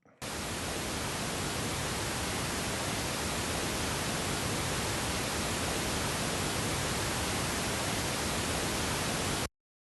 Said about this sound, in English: Next up, pink noise. Now, pink noise is also random, but it has a different frequency distribution.